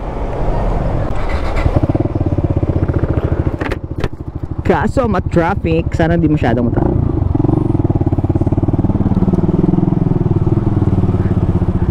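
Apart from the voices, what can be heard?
Suzuki Gixxer 155fi motorcycle riding, rev-matched downshifts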